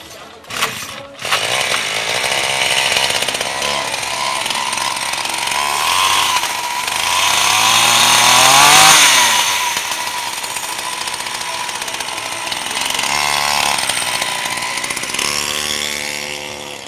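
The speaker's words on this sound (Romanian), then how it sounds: "Cu o trotinetă, cu motor de drujbă." Homemade scooter powered by a chainsaw engine, shown at a science and invention festival: a loud, continuous two-stroke engine buzz that revs up and down, rising to a peak midway before settling back, close by and without talk.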